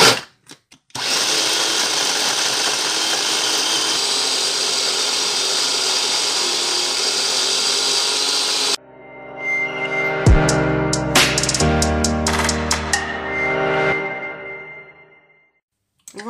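An electric chopper minces ginger, garlic and onion for a pili pili sauce with a loud, steady motor whine for several seconds. Its clattering and handling noises follow as the machine stops.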